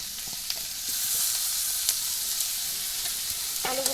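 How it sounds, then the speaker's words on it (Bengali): Potatoes and bottle gourd stems for a vegetarian dish are stirred in a frying pan, giving a steady loud sizzle with a few scraping stirs and a clink near the end. "এখন আলুটাকেও ডাটাটার সাথে ভালো করে মিশিয়ে নেব আর হালকা করে একটু ভেজে নেব"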